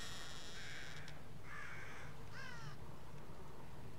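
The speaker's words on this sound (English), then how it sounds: "I hate crows too, if you didn't know. All they do is frickin' caw at you." Crows cawing in the horror video game The Evil Within: a few harsh, fairly faint caws spaced a second or so apart over steady background ambience, with no talk.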